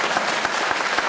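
A short burst of audience clapping at a public talk in Nashik, irregular claps rising and falling close by for about a second.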